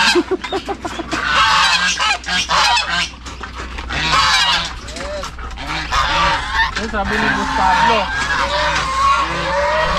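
Loud, repeated goose honks with flapping commotion, close by, while people talk over the noise.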